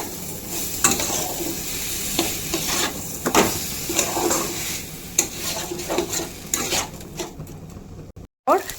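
Fried dal and rice for khichuri are stirred in a pan, a close, busy sizzle broken by repeated spatula scrapes and knocks against the metal, ending in a brief cut of silence and a few final clinks.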